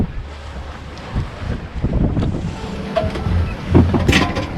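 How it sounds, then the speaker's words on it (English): Steady wind of about 15 knots buffets a sailboat crossing the Pacific from Mexico to French Polynesia, a continuous rushing hiss with water sloshing and creaks rising and falling, close to the microphone and without speech. "We've got some east-southeast wind, 15 knots, pretty consistent."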